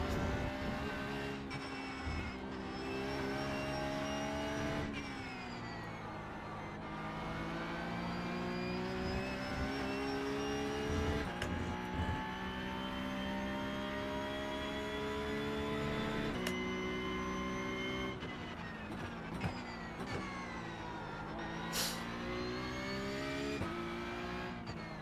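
Porsche Cup race car engine in iRacing at the Nürburgring, a loud continuous high-revving wail that rises and falls through gear changes and throttle lifts across the lap, with no talking.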